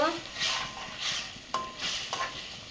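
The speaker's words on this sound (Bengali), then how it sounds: "মশলাটা দিয়ে দেবো এখন নাড়ি নাড়ি দেব" Spatula stirring spice paste in a pan while cooking Bengali rohu fish curry with okra, a few scraping strokes against the metal with soft sizzling and clinks underneath, close and clear.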